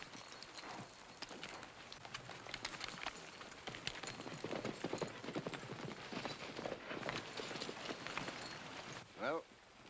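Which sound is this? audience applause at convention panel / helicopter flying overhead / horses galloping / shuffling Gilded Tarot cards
horses galloping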